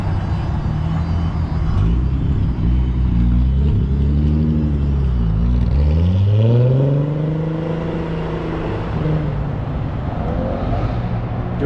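A car's engine at an Ace Cafe Euro Night car meet, likely a Jetta wagon with a VR6, rumbles steadily and rises in pitch as it revs and pulls away, fairly loud against a busy outdoor background.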